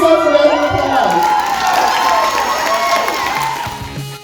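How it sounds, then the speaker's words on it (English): An audience at a live stage show breaks into sustained cheering, whoops and clapping, a dense crowd roar that stays loud and steady throughout. "Give yourself a round of applause."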